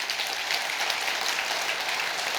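Dense, continuous applause from a large audience at a Buddhist Dharma assembly at Bongeunsa temple, loud and even throughout with no pauses.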